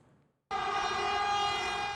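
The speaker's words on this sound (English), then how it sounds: "A passing train's horn echoes down a stretch of track on Taiwan's east coast." A train horn sounds on a coastal stretch of track in eastern Taiwan, beginning abruptly after a brief quiet moment and holding as one loud, sustained, steady blast with rich harmonic tones.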